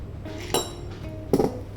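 A chilled cocktail glass for a dry martini clinks twice against a hard surface, two bright, ringing glassy taps close to the microphone about a second apart, with faint room hum between.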